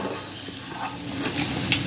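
Chana dal and vegetables sautéing in a pan for a tiffan dish with sago and poha, a soft steady sizzle with light stirring scrapes, close and continuous, no voices.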